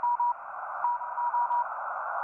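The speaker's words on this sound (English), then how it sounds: "Is there a service that decodes that Morse code like automatically so you can hear what they're putting out?" Morse code on amateur radio: a steady tone around a single pitch keyed into short and long beeps in an irregular rhythm, clear and close with a faint hiss beneath.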